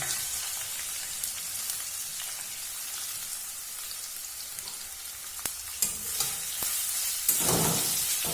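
Sliced onion frying in oil with dried chilli and nigella seeds, a steady close hiss of sizzling oil with a few sharp pops and clicks of stirring toward the end.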